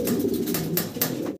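Bombay fancy pigeons, pure white birds, coo in a close, steady, throaty rumble that runs without pause, with no voices, until it cuts off abruptly at the end.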